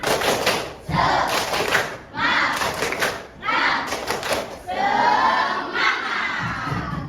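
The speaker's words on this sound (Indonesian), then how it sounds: "Tepuk semangat." Schoolchildren in a classroom perform a rhythmic spirit clap, bursts of loud group clapping and shouted chanting arriving in a patterned sequence with brief pauses between phrases, close and energetic.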